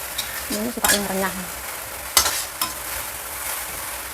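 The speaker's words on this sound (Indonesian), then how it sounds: "Bawang merah putih goreng." Shallots and garlic fried in a pan, a steady sizzle broken by a few sharp scrapes of stirring, with a brief voice over the frying.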